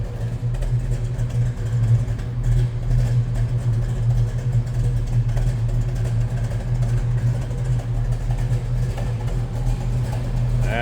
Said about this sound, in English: That's a rumble coming out of that 426 Hemi.